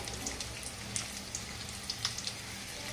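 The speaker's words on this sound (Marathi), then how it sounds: "थोडासा लसूण चटचट केला" Garlic sizzling in hot oil as a tempering for a Maharashtrian spring onion and moong dal dish, a quiet, close, steady crackle dotted with small spitting pops, no talking.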